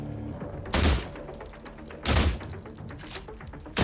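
Gunfire with flaming ammunition in the game The Last Caretaker: three heavy broadband shots spaced about a second apart, each a loud close blast with a short thumping tail over a faint background hum.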